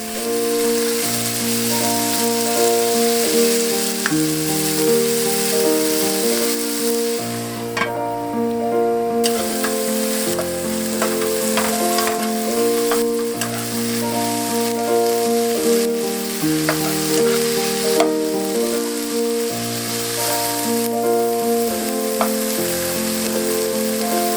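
Fiddleheads fry with bacon in a pan, giving a continuous close sizzle with light stirring under steady background music.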